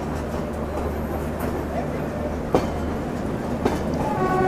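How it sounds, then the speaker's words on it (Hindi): Lucknow–Yesvantpur Express passing via Pratapgarh, a loud steady rumble of rolling wagons with a couple of sharp clanks and a rising roar near the end, heard close by. "लखनऊ यशवंतपुर एक्सप्रेस वाया प्रतापगढ़ वाली"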